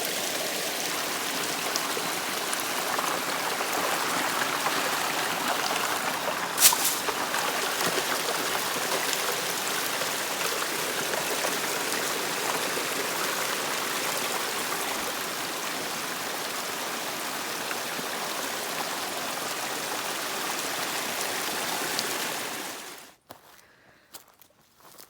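Water runs steadily through a shaded desert water feature, a continuous broadband stream heard close and even for most of the stretch before it cuts off near the end, with no voices.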